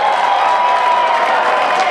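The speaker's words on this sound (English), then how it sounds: "A raucous crowd. What an atmosphere." Raucous baseball crowd cheering in a ballpark, a dense, steady roar of many voices at close range holding for the whole stretch without a break.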